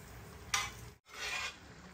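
Chicken liver and boiled vegetables fry with salt, chilli and masala in a pan, giving a soft sizzle and a scraping stir, then a brief pause before the sizzle resumes. No voices.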